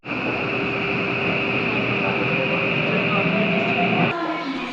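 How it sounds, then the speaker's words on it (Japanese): A Tokyo Metro Namboku Line train bound for Urawa-Misono pulls into an underground station platform, a loud sustained rolling rumble with steady tonal whine from motors and ventilation, shifting abruptly near the end as it slows. "ただいまホームには南北線が入線してきました"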